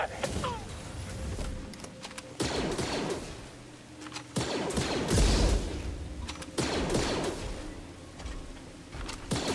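Stormtrooper blaster fire in Star Wars Jedi: Fallen Order, a rapid volley of loud shots cracking in several bursts with brief pauses between them, mixed with low thuds and rumbling game noise.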